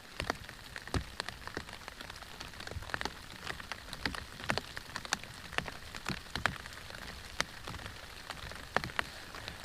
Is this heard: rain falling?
yes